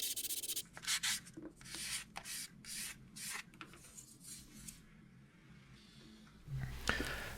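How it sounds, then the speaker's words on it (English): Sandpaper rubbing through layers of primer on a plastic MiG-3 model fuselage, a series of quiet, close rasping strokes in an uneven rhythm, pausing midway before a few final rubs. "I am sanding through several layers of primer that I sprayed earlier"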